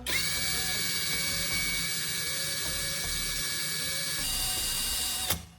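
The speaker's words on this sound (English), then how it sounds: "Now, you turn on the drill and lightly sand the rubber hose." An electric drill sanding a rubber hose whines steadily with a high motor tone and rough grinding underneath, running continuously before cutting off abruptly near the end.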